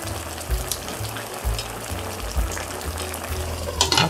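Tofu and potatoes braising in a pan, the liquid bubbling and sizzling steadily throughout, with soft low thumps and a brief clatter near the end; no one talks.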